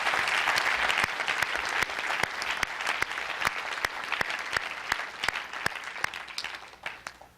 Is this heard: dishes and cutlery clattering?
no